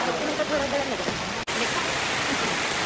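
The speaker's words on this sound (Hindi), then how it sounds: "लेकिन बारिश आ गई, छतरी काम आ गई है" Rain falls steadily on a mountain pilgrimage path to Vaishno Devi as a continuous close hiss with a very brief dropout near the middle.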